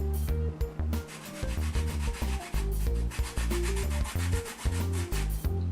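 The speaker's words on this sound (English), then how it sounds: "all you're going to do is scrape a little bit of it with a zester" A zester scraping the peel of a washed lemon, making steady rhythmic rasping strokes that are close and fairly loud, repeated in quick bursts.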